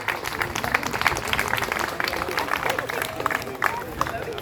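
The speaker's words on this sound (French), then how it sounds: "Applaudissez-le très fort, s'il vous plaît" Audience applause fills the room at a koi show award ceremony in France, a steady wash of clapping with crowd murmur and voices mixed in throughout.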